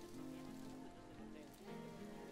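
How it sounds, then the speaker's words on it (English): Tropical rain falls steadily in the Planet Zoo management game, a continuous pattering wash that holds level throughout with no talking over it. "It's quite okay to have some rain in here."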